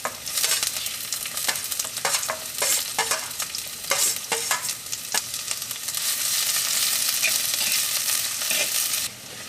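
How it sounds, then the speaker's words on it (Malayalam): Onion, ginger, green chilli and curry leaves sautéing in hot oil for a dry fish curry, a bright crackling sizzle with repeated spatula scrapes and clacks, settling into a steadier hiss toward the end. "ഇനി നമുക്കിതിലേക്ക് സവോളയും ഇഞ്ചിയും പച്ചമുളകും ചേർത്തിട്ട് നന്നായിട്ടൊന്ന് വളച്ചാം"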